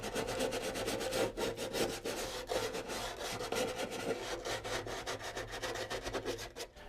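A wooden acoustic guitar top being sanded along the edges of its sound hole, giving steady, close, rhythmic rubbing strokes of abrasive on wood that run continuously with no talking.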